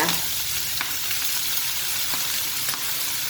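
Nham sausage stir-frying with egg and sweet and sliced chili peppers in a hot pan, giving a loud continuous sizzle with occasional scraping stirs and no talk.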